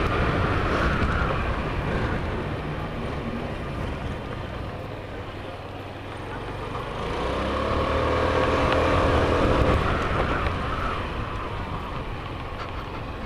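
A Suzuki Burgman scooter rides around the block, its engine droning steadily under heavy wind rush that dips briefly midway and then rises again, with no talk.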